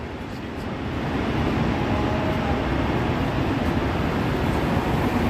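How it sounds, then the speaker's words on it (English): Roosevelt Island aerial tram cabin passing overhead near 60th Street and 2nd Avenue in Manhattan, a steady broadband rumble and hum that swells in the first second and then holds loud against street ambience. "Okay, so that was the Roosevelt Island tram."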